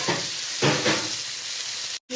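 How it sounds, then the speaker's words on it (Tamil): Loud, close sizzling of a whole white fish frying in a pan for a seafood fish fry, a steady hiss with a couple of surges as it is moved, cut off briefly near the end. "அந்த பெரிய மீனை போட்டு வறுக்க ஆரம்பிச்சுட்டு"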